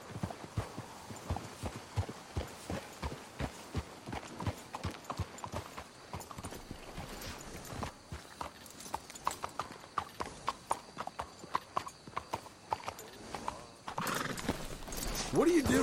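Horses' hooves clip-clop at a steady walking pace in Red Dead Redemption 2, close and fairly loud, with a brief whinny and a voice now and then over the rhythmic steps.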